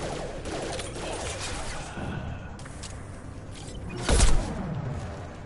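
A burst of gunfire in Mass Effect Legendary Edition scores a headshot, with scattered shots through the scene and one louder, sharper report near the end.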